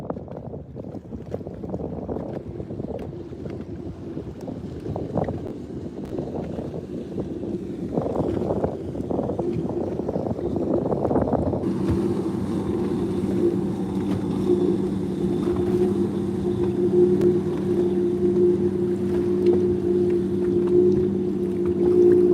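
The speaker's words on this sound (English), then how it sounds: "Type wind in the chat if you guys can hear all that wind noise." Wind buffeting a microphone on a bass fishing boat, steady broadband rushing that turns into a louder continuous roar with a low hum partway through, with no talk.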